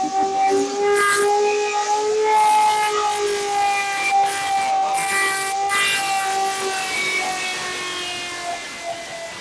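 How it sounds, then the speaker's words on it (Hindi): A loud wailing civil defense siren in a mock drill test, rising and falling in long sustained tones, steady and distant-sounding, slowly fading toward the end. "ये सायरन टेस्ट हो रहा है"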